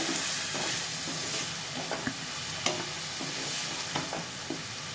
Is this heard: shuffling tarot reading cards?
no